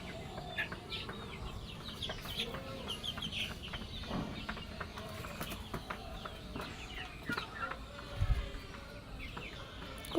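Chickens cluck and murmur together on a small poultry farm, a dense, steady chatter of many birds at moderate loudness with occasional sharper calls standing out.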